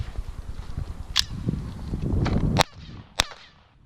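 A .22 caliber gun fires three sharp, loud, separate shots over a steady background rumble, with the last shot ringing out in near silence.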